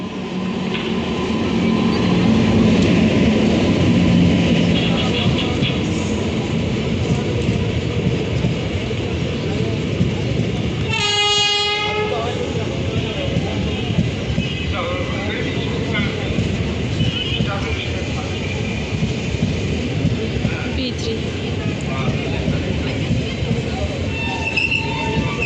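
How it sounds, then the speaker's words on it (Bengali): A train pulls into a station with a continuous rumble of rolling wagons and a brief high metallic wheel squeal midway, heard near and loud with people talking over the noise. "এইদিকে ট্রেনটাও চলে এসেছিলো।"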